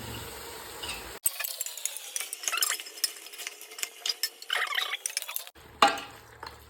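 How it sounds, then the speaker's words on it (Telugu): Spoon scraping and clinking around a pot of goat head and leg curry (thalakaya kalla kura) simmering on a low flame, a steady run of close, irregular stirring scrapes with no talk. "లో ఫ్లేమ్లో పెట్టుకొని మంచిగా కలుపుదాము"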